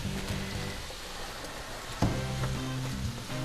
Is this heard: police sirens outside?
no